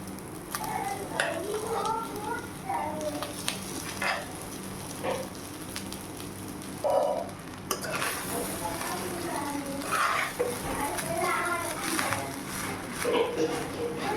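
Cooked rice is stirred into mango pulihora in a pan: soft sizzling and repeated scraping and mixing sounds run under a voice talking throughout.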